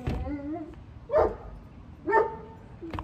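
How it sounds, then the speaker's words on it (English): Pet dog barking indoors: a few short, sharp barks spaced about a second apart, fairly close and loud, with some whining between them. "Don't mind my dog's bark."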